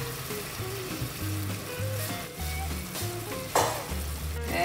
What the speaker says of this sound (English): Just stir it until combined.